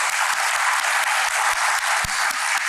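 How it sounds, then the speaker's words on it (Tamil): Audience at a Tamil children's show clapping for absent children, a dense steady wash of applause held at an even level throughout, fairly close and loud. "அவர்களுக்காக கை தட்டலாம், அவர்கள் இங்கே இல்லாவிட்டாலும் கூட"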